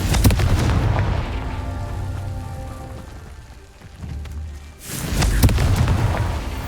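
Confringo spell blasts in Hogwarts Legacy: a loud booming explosion opens, a rumbling, crackling tail fades through the middle, then a second heavy blast hits near the end, no voices.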